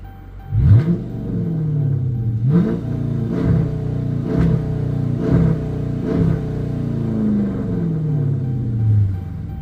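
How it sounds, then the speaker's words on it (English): A car engine revs repeatedly, about six sharp throttle blips rising and falling in pitch, loud and close, with a long deep drone trailing off at the end and no voices. "I actually really like how the car sounds now. It really sounds good."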